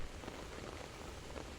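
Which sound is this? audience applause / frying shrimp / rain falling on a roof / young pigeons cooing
rain falling on a roof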